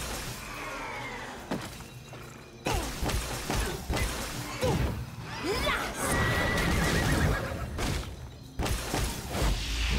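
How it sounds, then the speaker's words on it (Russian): A horse in the fantasy game Lost Ark gives several whinnies over clip-clopping hooves, mixed with sharp shattering hits and thuds from ongoing combat, loud and close, with no speech. "У, прикольный конь."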